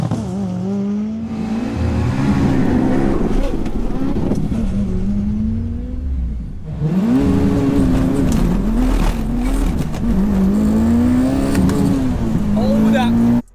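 A 700 bhp car revs hard at launch, then bogs down badly, dropping in pitch before climbing again, with people talking and shouting over it.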